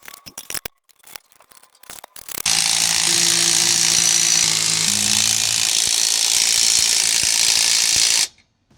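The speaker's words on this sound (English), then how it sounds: "just tighten up the shackle links and shackle bolts" A power tool tightens the shackle bolts on the rear axle leaf springs of a Jayco Octane travel trailer. After a few short knocks, it runs as a loud, steady, continuous whir for about six seconds, then cuts off abruptly.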